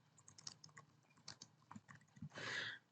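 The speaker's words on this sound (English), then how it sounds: "and then typing in a note." Typing a note on a computer keyboard while setting up a school bell schedule in software: a run of light, irregular key taps, close and fairly quiet, ending in a brief burst of denser clatter.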